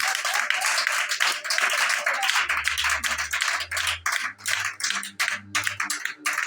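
A church congregation applauds loudly and continuously, a dense wash of many hands clapping, with low sustained tones underneath.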